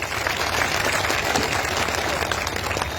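A crowd claps at a political speech in Darbhanga, dense and sustained applause filling the space steadily for a few seconds.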